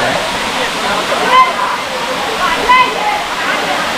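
Gandhari waterfall near Medaram pours in a loud, steady broadband rush, heard close with constant splashing and no break.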